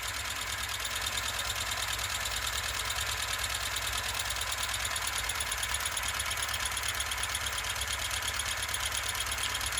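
OKMO R01 Rider Ericsson Stirling engine with a brass flywheel, running hot with a fast, steady mechanical ticking and whirring rhythm, close and fairly quiet and unbroken.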